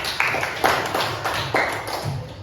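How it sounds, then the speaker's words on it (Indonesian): A classroom group claps for a student during a lesson on Hajj rules, a short run of uneven, overlapping claps at moderate loudness, with no talk over them. "tepuk tangan dulu untuk Aidil"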